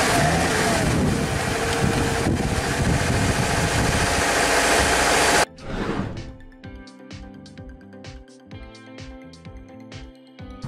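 A car engine idles roughly because of a clogged exhaust, its speed sagging. A loud, dense rumble lasts about five seconds, then gives way to fainter, rhythmic tonal sounds.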